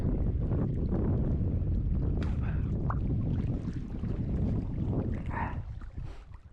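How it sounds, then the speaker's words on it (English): Strong wind buffets a microphone outdoors on a solo overlanding trip, a loud, continuous low roar that eases slightly toward the end, with no voices. "Yeah, it's so windy."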